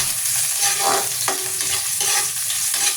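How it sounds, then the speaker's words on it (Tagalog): Ginger sautéing in a moderate amount of hot oil in a pan, a steady close sizzle with a light crackle and a brief spoon scrape partway through, no voices over it. "Unahin lang muna natin na igisa itong luya hanggang sa lumabas yung aroma."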